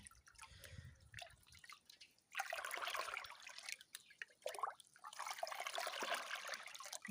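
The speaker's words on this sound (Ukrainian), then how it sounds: "І приблизно ось на 10 літрів води такої виливаю ці дріжджі." Liquid yeast poured into about 10 litres of water in a bucket, heard as soft drips at first, then two sustained splashing pours, near and fairly quiet.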